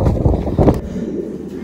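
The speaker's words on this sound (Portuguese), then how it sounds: "Isso tá ventando, hein?" Steady low rumbling wind buffeting a microphone, loud and continuous for a couple of seconds with no one speaking.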